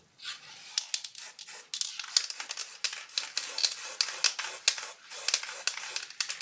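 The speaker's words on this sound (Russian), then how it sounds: "Белым распыляем только по центру." White spray paint hisses from an aerosol can during spray paint art, in a quick series of short, close, bright bursts, with no talking.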